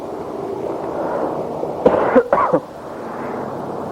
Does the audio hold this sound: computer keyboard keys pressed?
no